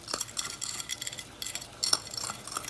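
Sugar being stirred into a custard mixture for bread pudding, a spoon scraping and clinking against the bowl in quick irregular strokes, close and fairly quiet, with no voices.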